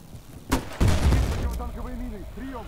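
Video game gunfire in Battlefield: Bad Company 2 as mines are shot at: a sharp crack followed by a burst of heavy, booming shots, with a voice talking over the fading rumble.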